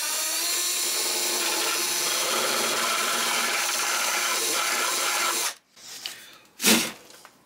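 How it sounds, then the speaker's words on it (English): A Forstner bit bores steadily down through the wooden top of an archtop guitar body with a continuous grinding whir, then stops abruptly, followed by a brief scrape and a short burst of drilling. "you take your Forstner bit and you drill down through the top like this"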